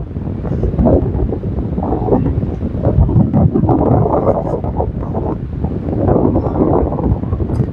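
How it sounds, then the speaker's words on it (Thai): Strong wind on a beach roars and buffets the microphone without letup, a heavy low rumble with gusts swelling and easing throughout. "ลมแรงมากเลยเพื่อน"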